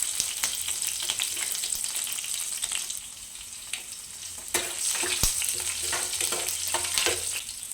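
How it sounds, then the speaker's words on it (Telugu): Green chillies and curry leaves with cumin and mustard seeds frying in hot oil, giving a steady close sizzle with crackling pops and occasional stirring scrapes throughout. "పచ్చిమిర్చి బాగా వేగిపోయాయి కదండి, ఇప్పుడు చికెన్ వేసుకుందాం"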